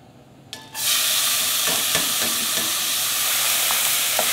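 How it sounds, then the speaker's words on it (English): Rice hits hot sesame oil in a pot over medium-high heat and erupts into a loud sizzle, followed by continuous frying hiss with soft scrapes and knocks from a wooden spoon stirring. "Keep stirring around 2 minutes with a wooden spoon."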